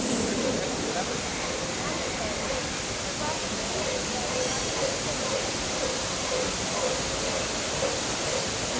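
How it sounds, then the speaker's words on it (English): Water from a fountain and waterfall pours steadily outdoors, a continuous broad rushing hiss at an even level throughout, with a faint voice in the background. "It's a fountain, it's a waterfall."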